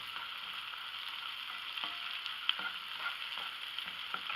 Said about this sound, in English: Add bacon back in, get it warmed back up.